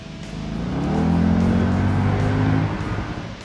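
Mercedes SLK 55 AMG convertible engine swelling into a deep, loud roar with harmonic growl as the car accelerates past, then easing off, heard close at an airstrip with no talking.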